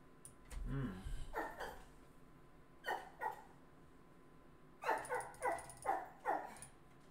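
A dog barks and yips in short bursts, a few separate barks followed by a quick run of four or five, moderately close amid a quiet room background.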